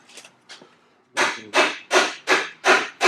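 A motorcycle exhaust pipe being tapped back into place with a hammer: two light taps, then five firm, evenly spaced knocks, close and clear with no talk.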